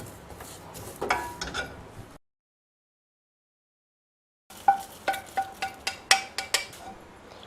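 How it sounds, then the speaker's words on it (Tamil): Foxtail millet dry-roasting in a pan for idli powder gives faint crackles and light popping ticks. A short burst comes first, then a silent gap, then a run of sharper, distinct crackles. "இங்கே பாருங்க, மொறுமொறுன்னு சத்தம் வருது பார்த்தீங்களா"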